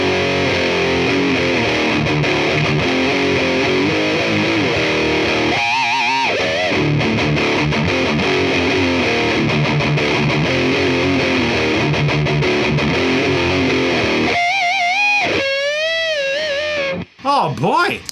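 Electric guitar played through a DOD 250 overdrive pedal fitted with a Russian op amp, a continuous crunchy distorted tone with rich harmonics, faint noise and interference, sustained chords and bends ending abruptly near the close.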